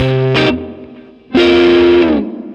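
Electric guitar played through a TONE X Double Special Dumble-style amp plugin on a chime setting with reverb: two sustained chords, each ringing out into a reverb tail, loud and close with no talking.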